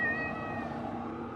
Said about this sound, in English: You wanna go inside, Cat?